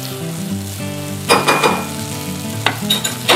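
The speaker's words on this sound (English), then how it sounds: "So once the oil gets heated, I'll put little in the mung to get it sauteed so that the moisture is evaporated," Green mung beans sautéing in hot oil for pattice filling, a loud, close sizzle with repeated scraping stirs and spoon strokes against the pan, and no voices.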